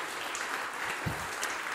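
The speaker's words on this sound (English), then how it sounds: "Another round of applause for Gijs" A tech conference audience gives a brief round of applause for a presenter of a self-driving RC car talk. The clapping is a soft, dense wash, fairly faint and steady throughout.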